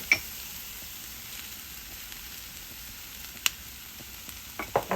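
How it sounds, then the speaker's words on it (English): Green chile stew being stirred in a pot after flour goes in: a faint, steady low sizzle runs throughout, broken by a few soft scrapes and taps near the start, middle and end. "And we're just going to stir it up"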